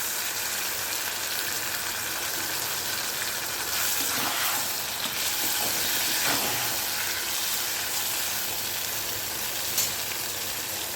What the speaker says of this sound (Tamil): நம்ம பூண்டு வதங்கிட்டு இப்போது இந்த ஸ்டேஜில் கொஞ்சம் பிழிஞ்சு வச்ச தக்காளியும் சேர்த்து